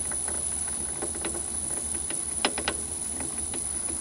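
A Myford ML7 lathe turns slowly in back gear at very low speed with a steady mechanical hum and faint irregular ticks and clicks, alone and close.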